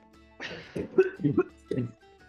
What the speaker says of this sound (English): That's a real cough.